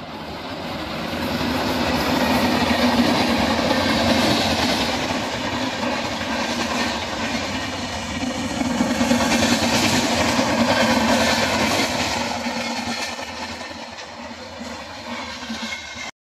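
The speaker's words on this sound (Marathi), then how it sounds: "ट्रेन आता आलेली आहे, दाखवतो तुम्हाला." A train rushes past on the track at speed in the Konkan countryside, a loud sustained rumble and clatter of wagons rolling by for many seconds before easing slightly at the end.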